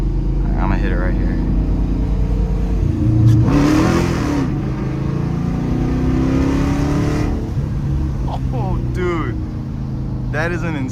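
A straight-piped widebody Dodge Charger R/T accelerates hard from inside the car, a loud, deep engine roar climbing through gear shifts, with people talking excitedly over it.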